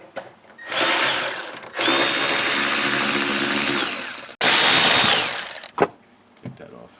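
A power ratchet spins loudly in two long bursts, backing out Torx T30 bolts from the latches in an Audi's rear trunk, with short clicks and a sharp knock between runs and quieter gaps around them.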